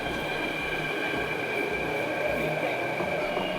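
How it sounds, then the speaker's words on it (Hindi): A Mumbai metro train pulls into Andheri station with a loud, steady rumble and sustained high whine from the motors and wheels, close by and continuous, with some faint voices underneath. "और देखते ही देखते एक और मेट्रो ट्रेन आ गई।"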